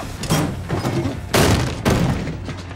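A door slams outside amid a busy scene, two loud broadband bangs standing out over steady background noise and movement.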